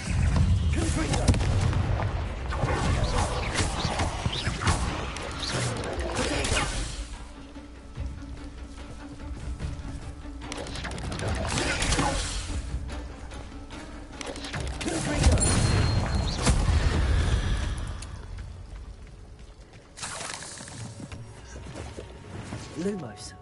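Confringo spell blasts erupt in Hogwarts Legacy, repeated booming explosive bursts with crashing debris, loud and near, spaced across the span amid continuous game effects.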